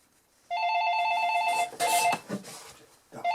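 A plastic telephone rings loudly nearby with a sustained electronic trill that breaks off, resumes briefly, then starts again, without any voices.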